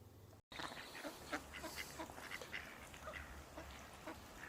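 Ducks on a river, faint scattered quacks and honks from several birds in the distance over steady outdoor background noise.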